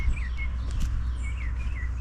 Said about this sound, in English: Here are the birds.